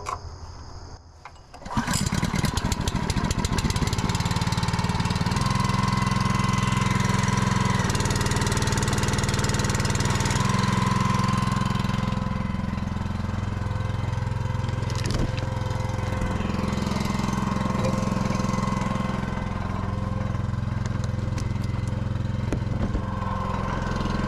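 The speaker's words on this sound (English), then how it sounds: "We'll run this at maybe half throttle until we get to the break-in period" A Split-Fire 3465 log splitter's gas engine is pulled to life, then runs steadily at half throttle with a loud, even mechanical drone and occasional faint knocks nearby.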